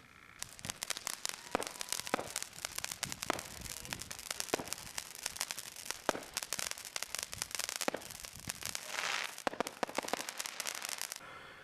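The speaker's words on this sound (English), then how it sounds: "I wanted to throw you a fireworks show!" A fireworks show in the video game Skylanders Swap Force pops and crackles in dense, rapid bursts for about ten seconds, with a constant scattered crackle and no talking.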